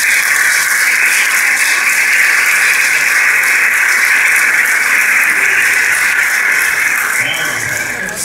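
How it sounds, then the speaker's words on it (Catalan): Sustained audience applause welcoming a graduation speaker in a hall, dense steady clapping from many people that carries on for several seconds and fades slightly at the end. "a qui rebrem amb un fort aplaudiment"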